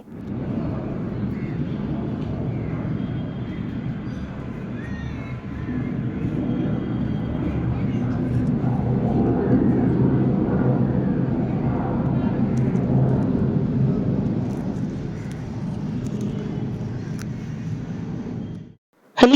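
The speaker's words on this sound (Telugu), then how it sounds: "హెలికాప్టర్ సౌండ్ చూసారా ఎంత గట్టిగా వస్తుందో" A loud, steady helicopter rotor and engine drone passes overhead near a beach, swelling in the middle and fading near the end, with faint voices underneath.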